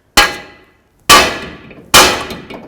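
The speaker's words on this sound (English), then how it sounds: "We're going to use your hammer and bonk right along this, and hopefully it should want to drop free." Three sharp metallic clangs of a hammer striking a tie rod on a 2006-10 Dodge Charger's front suspension, evenly spaced about a second apart, each ringing briefly before fading, loud and close with no talk.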